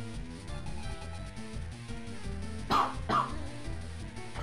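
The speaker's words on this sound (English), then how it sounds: "Coughed, sorry." Two quick, sharp coughs from a nearby person cut through steady chiptune music from a Pokémon Fire Red game playing in the background.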